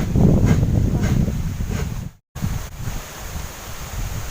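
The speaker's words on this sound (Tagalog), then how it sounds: "Lakas ng hangin." Strong wind buffets the microphone in heavy, rumbling gusts, with a momentary cutout before the roaring blasts continue.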